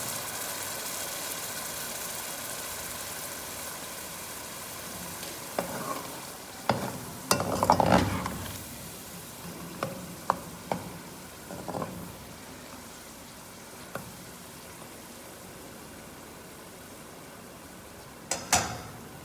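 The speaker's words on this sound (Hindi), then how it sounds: "अब मैं हल्की आंच करके पालक को फ्राई करूँगी" Spinach frying over low heat in a pot for palak gosht, a soft steady sizzle with scattered spoon clicks and stirring knocks, including a brief louder cluster of scrapes partway through.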